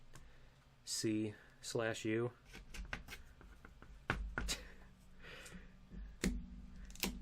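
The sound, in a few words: cat stepping on a computer keyboard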